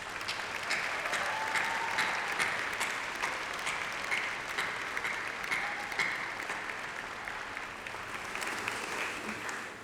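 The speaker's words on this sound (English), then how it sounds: "please join me in a massive round of applause for all those supporters" Sustained applause from a graduation ceremony audience for the graduates' supporters, a dense steady wash of many hands clapping that fades slightly toward the end.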